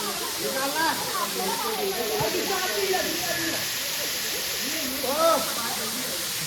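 Dhangar waterfall near Badlapur gives a steady, dense roar of falling water filling the whole scene, with voices of visitors faintly carrying over it.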